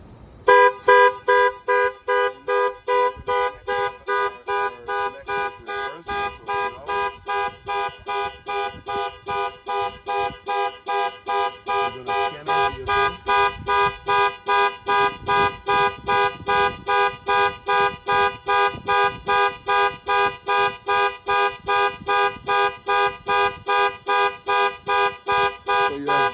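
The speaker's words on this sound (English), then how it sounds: "you have alarm, obviously" A loud 2021 Range Rover Sport alarm blares on its own, a rapid repeating electronic tone cycling steadily and evenly for the whole stretch.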